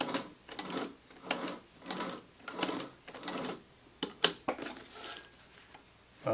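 A treadle sewing machine stitches in repeated short bursts, each run of rapid mechanical clatter separated by brief pauses, with a few sharp clicks near the end; close and moderately loud, no talking.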